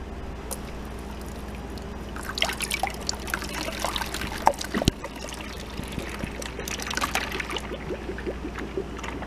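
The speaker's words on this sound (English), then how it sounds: "We're going to pour our product in." Milkshake mix is poured into a SaniServ milkshake machine's barrel, a steady trickling, splashing flow over a low mechanical hum, with bursts of denser liquid noise midway.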